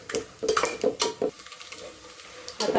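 Puffed rice chivda ingredients roasting in a pan, heard as repeated stirring scrapes and clinks of a utensil against the pan, in short bursts with brief pauses, fairly close.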